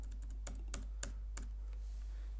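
Keys clatter on a computer keyboard, including a press of F11, as a handful of crisp taps and clicks over a steady low hum, close and fairly quiet.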